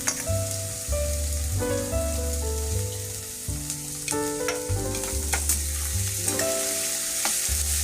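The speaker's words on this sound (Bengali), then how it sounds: "পেঁয়াজটা ব্রাউন করে ভেজে নিচ্ছি" Sliced onions fry in hot oil with chopped green chilli in a pan for chole bhature, a steady close sizzle under layered music without any talk.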